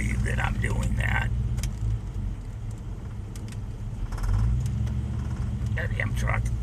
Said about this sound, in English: Goddamn truck.